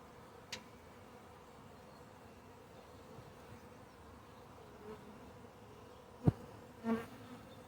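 Honeybees fanning at the entrance of a hive give a faint, steady buzz, with a few brief nearby wing buzzes and clicks standing out over the low hum.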